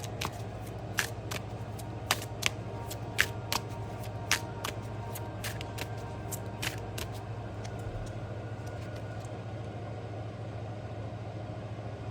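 A tarot card deck is shuffled to draw a card, giving a continuous soft riffle with a steady run of crisp card snaps and flicks over a low steady hum, with no voice.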